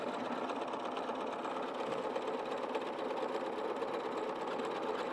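Domestic sewing machine stitching a buttonhole automatically to the length of the button held in its guide, a fast, steady mechanical whir and needle chatter running evenly and close without pause.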